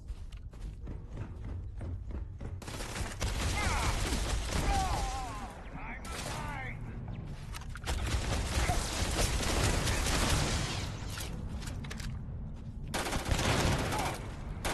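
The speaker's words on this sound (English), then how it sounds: "Also, the laser gun causes explosions." Dense rapid gunfire and laser-gun explosions from a game fill the clip continuously, loud and chaotic, with no pauses.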